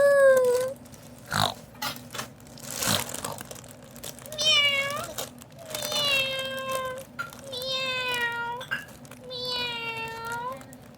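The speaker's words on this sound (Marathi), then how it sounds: "त्या वहिनीच्या मागं मांजरच लागली." A cat gives four or five drawn-out meows in a row, close and clear, after a few sharp knocks and some quieter sounds at the start.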